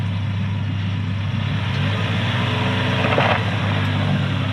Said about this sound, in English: you can hear the rear diff is now locked